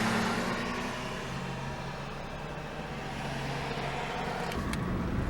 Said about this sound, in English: A Hyundai that passed by, the loud muffler.